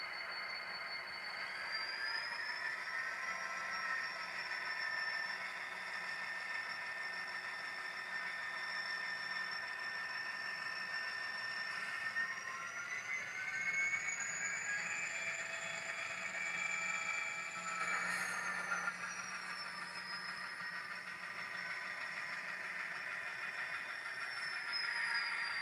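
An HO scale model locomotive runs on a shelf layout, giving off a faint, continuous motor whine over a soft hiss whose pitch drifts gently up and down the whole time.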